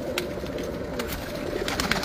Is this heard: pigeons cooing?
yes